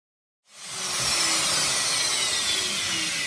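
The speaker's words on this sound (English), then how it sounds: "there's been a probably 5 or 6 mil groove machined right through that" A power tool machines a 5–6 mm groove right through a timber table rail, starting abruptly after a brief silence and then running as a loud, steady, continuous broadband whine of cutting with no talk.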